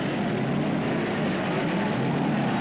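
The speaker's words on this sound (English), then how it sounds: "Hear the whine of the turbines and the roar of the piston engine cars" A dense, steady roar of turbine and piston engine race cars at the 1968 Indianapolis 500, a broad rushing drone with a faint high turbine whine running through it, loud and continuous.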